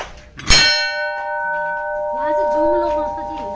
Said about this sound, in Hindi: घंटी की आवाज़ सुनना आप।